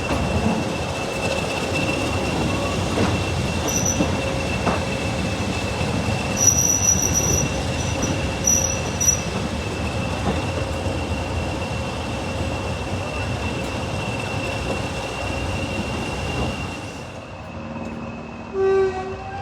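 Class 20 diesel locomotive 20142 pulling away from Highley station on a heritage railway, a sustained rumble with high wheel squeal and faint clicks, fading toward the end.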